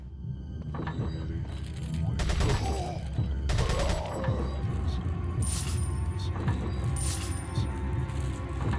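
Gunfire in Resident Evil 4, with shots aimed at enemies' legs: several sharp, loud gunshots in irregular bursts over a dense background of game noise and clatter.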